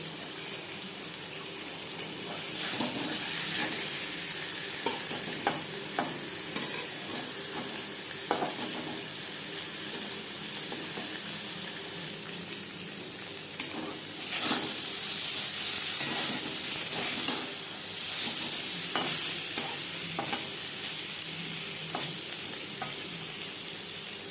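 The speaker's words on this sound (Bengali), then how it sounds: "পনির হালকা করে ভাজা হয়ে গেছে" Paneer cubes frying lightly in a pan with turmeric and salt for a vegetarian paneer dish, a loud continuous sizzle broken by scattered scraping and clicking from stirring.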